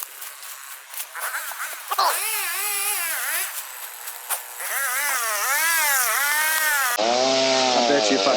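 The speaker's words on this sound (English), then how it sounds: "Now we got the chainsaw going." A chainsaw runs nearby, its whining engine rising and falling in repeated revving surges and buzzing steadily in between, louder and harsher toward the end.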